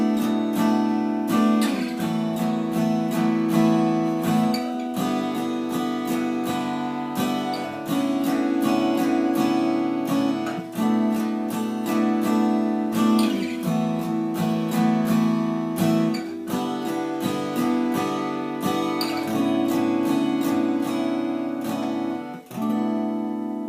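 Acoustic guitar strummed through a steady run of open-string sus and add chord shapes, ringing fully and continuously at close range with brief pauses between changes, no talking.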